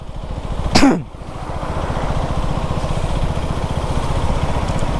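A KTM Duke 390 motorcycle engine shifting into third gear, a sharp rising rev flare that drops off quickly, then a steady, throbbing engine drone holding on, loud and close, with no talking.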